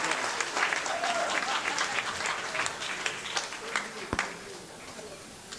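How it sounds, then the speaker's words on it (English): An audience at a talk bursts into steady applause, a dense wash of clapping heard at moderate distance, with a brief sharp knock partway through and faint voices beneath. "Applause."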